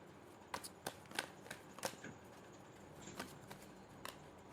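Tarot cards being shuffled in several quick, crisp riffling bursts and soft slaps, close and fairly quiet, with no talking.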